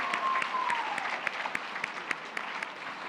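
Applause from dinner guests at an evening award ceremony, a steady room-filling patter of clapping with a few sharper individual claps standing out, and no one speaking over it.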